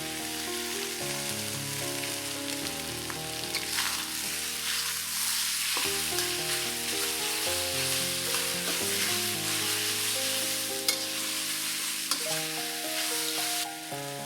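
Beef sizzles and fries in oil in a wok for cumin beef stir fry, a steady close crackle with stirring scrapes throughout, heard alone over soft background music.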